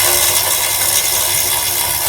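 A Husky electric ratchet whirs continuously during a brake job on a 2014 Chevy Cruze, a loud, steady buzzing motor drone held close with no pauses.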